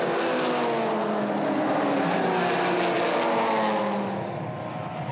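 Several GT race car engines roar together at high revs on a restart at Phillip Island, a dense continuous whine of passing cars that fades slightly at the end.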